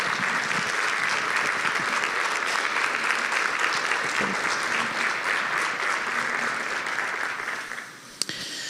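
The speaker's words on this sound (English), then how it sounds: "can we give a round of applause to Ms." Sustained audience applause at a conference session fills the room with dense, steady clapping, then thins and fades near the end before a brief sharp knock.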